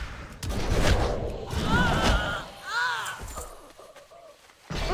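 Cannon fire and explosions in the World of Warcraft video game, a few heavy booming blasts and rumbling bursts mixed with game effects and whooshing tones, fairly loud and close.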